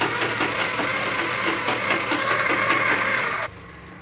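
A sewing machine runs steadily, stitching a straight line along a fabric sleeve with a continuous whirring rattle that cuts off abruptly near the end.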